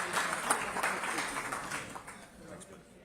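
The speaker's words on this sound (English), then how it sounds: "A great round of applause for everyone" Crowd at a basketball awards event giving a round of applause, a quiet, distant wash of clapping that gradually fades over three seconds.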